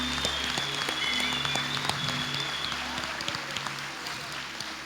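A church congregation claps in a continuous, fairly soft wash of applause, with a low steady hum and faint tonal sounds underneath, fading slightly toward the end.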